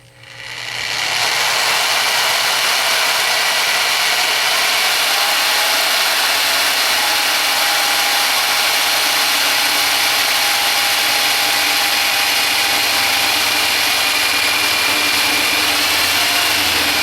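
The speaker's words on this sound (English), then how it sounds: "I'm going to drill a hole where I did my 2 marks" A power drill bores a hole into a VW fan shroud, spinning up quickly and then holding a loud, steady high-pitched whine with grinding texture for the rest of the clip.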